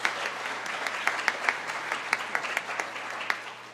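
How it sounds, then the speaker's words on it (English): A modest round of applause from an audience at a school business officials' conference, scattered individual claps standing out over a soft, fairly distant clatter of hands. "give them a round of applause for being here"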